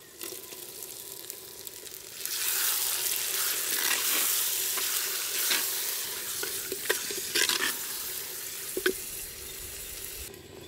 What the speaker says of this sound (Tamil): இப்போ பொடியாக கட் பண்ண தக்காளி சேர்த்துக்கலாம்.